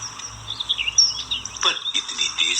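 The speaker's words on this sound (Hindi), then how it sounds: "पंछियों के गीत और चहचहाहट भी सुनाई देगी" Birds chirp and sing continuously in the background, high twittering calls overlapping, with soft ambient noise beneath.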